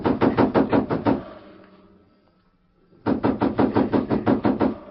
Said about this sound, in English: someone knocked sharply on the door.